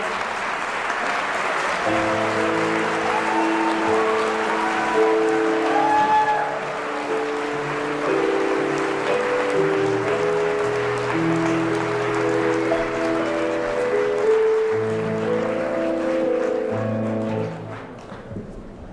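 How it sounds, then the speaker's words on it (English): Audience applause fills a Havdalah ceremony gathering, steady and sustained for most of the stretch, mixed with sustained musical tones playing alongside, then thinning out near the end. "Let's give a big round of applause, folks."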